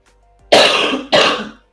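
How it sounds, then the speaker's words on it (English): A single person gives two harsh coughs in quick succession, close and loud, with near silence on either side. "Also, I have a cough."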